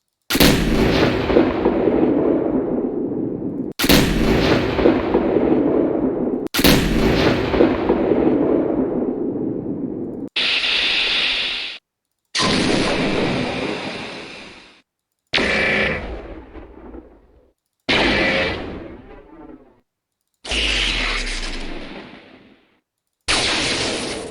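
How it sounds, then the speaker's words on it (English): Plasma cannon shots from the MechWarrior 4 game ring out as a series of about nine loud, booming blasts, each with a long decaying tail, spaced a few seconds apart with no talking. "is this the sound of a gigantic plasma cannon?"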